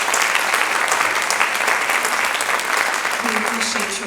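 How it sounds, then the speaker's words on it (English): Dense, steady applause from an audience at a children's advocacy benefit gala in Ohio, honoring a state senator and representatives; loud and continuous throughout, with a faint tonal murmur rising near the end. "A round of applause for them too."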